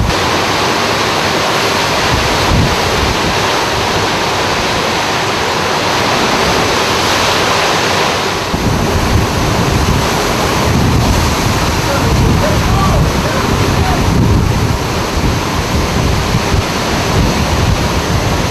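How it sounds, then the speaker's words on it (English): Big ocean waves crash and surge in a loud, continuous roar of surf with heavy wind buffeting the microphone, the water noise swelling and churning throughout, with people talking faintly in the background. "There's a big wave."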